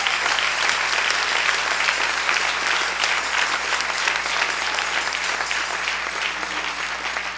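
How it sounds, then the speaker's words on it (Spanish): Sustained applause from a church congregation fills the space throughout, loud and steady with many hands clapping at once, fading slightly toward the end. "Denle ese aplauso al Rey."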